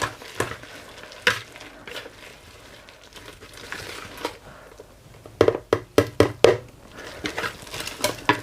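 Sweet potato pakora batter with coarsely grated paneer being mixed in a bowl, irregular wet squelching and clicking strokes, quiet at first then a quick run of sharper knocks and scrapes near the end, no speech.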